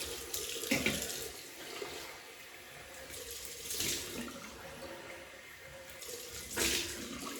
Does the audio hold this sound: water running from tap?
yes